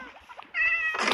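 A kitten gives one short, thin meow close by, preceded by faint rustling and followed by a burst of noise.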